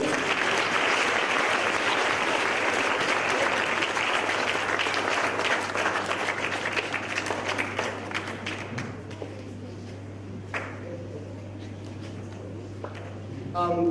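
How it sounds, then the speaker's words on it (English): Broadband applause from a crowd, loud and sustained for about eight seconds before thinning into scattered claps with a steady hum beneath. "Let's give him a round of applause."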